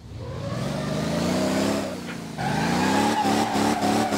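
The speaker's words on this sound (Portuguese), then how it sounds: "Peguei, queimando o pneu, ó." Virtual car in the Motor Town driving game on a race track, engine revving hard with rising and falling pitch, then a dip and a renewed surge as tires spin in a burnout, loud and continuous with no talk.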